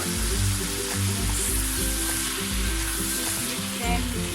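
Cut prawns sizzle steadily in a hot pan while making chicken and prawn spring rolls, a dense continuous frying hiss with a low rumbling undertone and no voices.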